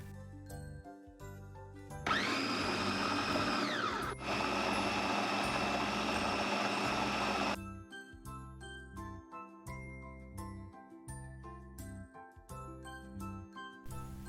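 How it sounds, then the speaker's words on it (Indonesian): A food processor or food chopper blends snack dough ingredients in a loud, steady motor whir of about five seconds with a brief dip partway through, followed by lighter clinking and clattering. "Semuanya kita campur jadi satu di dalam food processor atau food chopper seperti ini, dan kita blender sampai semuanya tercampur rata"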